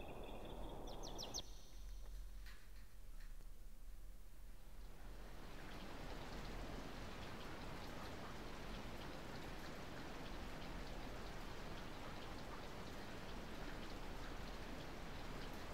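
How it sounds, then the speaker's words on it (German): Steady in-game rain in Skies of Arcadia Legends, a dense even hiss that swells in after a few quiet seconds and then pours on without a break, with no one speaking. "Es regnet schon den ganzen Tag lang."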